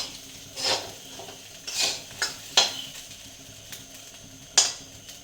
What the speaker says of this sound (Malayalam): കക്കയിറച്ചി ഫ്രൈ ആയിക്കൊണ്ടിരിക്കുവാണ്. ഇളക്കി ഇളക്കി കൊടുക്കണം ഇടയ്ക്കിടയ്ക്ക്.